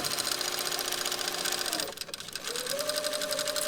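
A sewing machine runs a steady, fast, continuous stitch along a French seam on a shirt, pausing briefly near the middle before the even whirring resumes close by.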